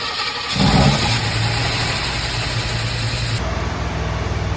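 A 1955 Chevy engine with a big cam cranks and catches, then settles into a steady, rough mid-pitched idle, loud and close, with no voices.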